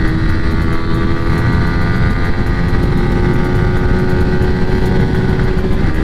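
A KTM Duke 200 motorcycle engine roars at steady high revs during a top-end race against an R15 V3, loud and close throughout with a constant droning tone and no talking.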